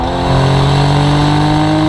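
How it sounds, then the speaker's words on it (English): A steady, loud 1994 Toyota Soarer 1JZ-GTE turbo engine with stock turbos and a full turbo-back Blitz Nur Spec exhaust idles with a deep, smooth hum and a low exhaust rumble, holding constant throughout. "This engine is so smooth."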